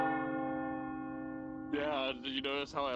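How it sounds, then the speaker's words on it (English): A church bell tolls in a VRChat roleplay game, a single sustained, ringing strike that hangs and slowly fades, close and clear, before voices begin talking over its tail. "Dudley, did you like the bell toll?"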